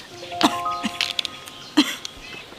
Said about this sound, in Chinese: 妈，你怎么咳嗽了？